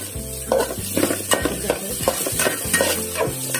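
Small onions, or shallots, fry in a pan for a Kerala-style chicken curry, with a loud close sizzle broken by quick scraping stir strokes in a busy, uneven rhythm.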